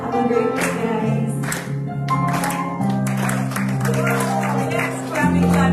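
A church congregation claps along during a Sunday celebration service, with rhythmic clapping mixed into loud music and singing that continue throughout.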